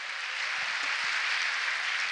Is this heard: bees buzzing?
no